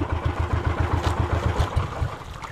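On a small fishing boat out on the Pacific, an engine thumps in a steady, rapid low pulse that stays moderately loud and even throughout, with no voices over it.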